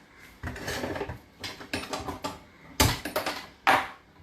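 A metal pressure cooker lid being closed: a series of clanks, scrapes and clicks of metal on metal, with two sharper knocks near the end, close and fairly loud.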